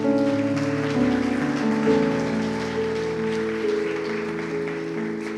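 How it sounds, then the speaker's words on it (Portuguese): A church congregation applauds during a service, a steady rain-like clapping beneath sustained keyboard chords from the band. "Aplauda o Senhor."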